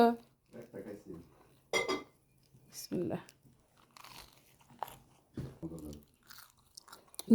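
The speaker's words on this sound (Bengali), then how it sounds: "অ্যাপল কিন্তু খাইতেছি" Someone eats an apple up close, with wet, crunchy bites and chewing in short, irregular bursts, separated by pauses, while a person talks between them.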